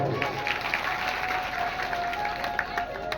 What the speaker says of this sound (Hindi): ताली बजाओ मेरे भाई